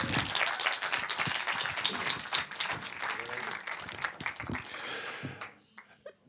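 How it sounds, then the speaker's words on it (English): Audience applause fills a room after two filmmakers are congratulated at a screening: dense, sustained clapping that stays loud for about five seconds, then tails off sharply into near quiet. "Big round of applause."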